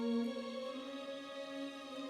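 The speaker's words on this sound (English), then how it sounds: "like fake placeholder strings that sound like this" Fake MIDI placeholder strings from a keyboard hold a soft sustained chord, a smooth synthetic string pad with steady tones that swell slightly and stay quiet, with no voices.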